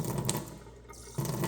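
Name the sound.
water running from a sink tap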